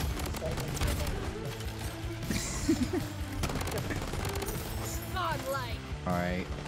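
Gunfire in the video game Bloodstrike, rapid rattling shots running under game music and effects, with a player talking over the busy mix.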